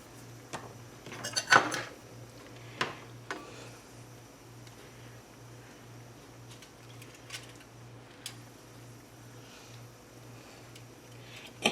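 Meatballs are stuffed into hollowed garlic rolls at close range, giving sporadic clinks, taps and soft handling knocks, loudest early on, over a steady low hum in a quiet room.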